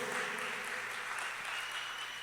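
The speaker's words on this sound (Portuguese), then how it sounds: "Você pode aplaudir o Senhor por isso?" A church congregation applauds during a worship service marking five years of vigils, a dense, steady wash of clapping that fills the space evenly from start to finish with no talk over it.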